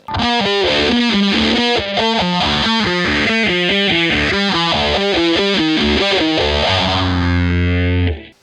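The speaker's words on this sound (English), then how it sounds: "Prime distortion is on there the whole time" Heavily distorted electric guitar with a phaser plays a repeating rhythmic riff, loud and alone, with the final chord ringing out and cutting off near the end.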